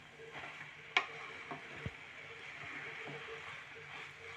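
Grated carrots for gajar halwa fry quietly in a pan on medium heat, a faint steady sizzle broken by a few soft scraping stir knocks.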